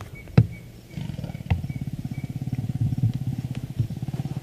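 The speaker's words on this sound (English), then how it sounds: "You can hear all the zebras snorting." Zebras snort repeatedly on a morning safari drive, a rapid rhythmic low pulsing that swells and continues steadily, with a sharp louder burst near the start.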